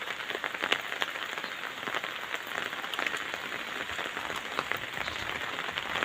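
Rain that has fallen since morning patters steadily onto a waterlogged yard, a soft continuous wash dotted with close drips and splashes, no voices.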